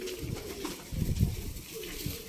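Pigeons cooing inside a coop, low throaty coos rising and falling in a continuous close murmur, with faint rustling between calls.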